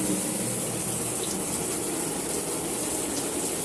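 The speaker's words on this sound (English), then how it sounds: "So here we go with the shower." A bathtub shower runs in a steady, full hiss of spraying water, close and continuous with no talking.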